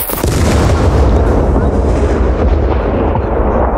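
Gunfire in the Scum video game, heavy booming shots and blasts in a loud continuous barrage, dense and close, with voices talking underneath.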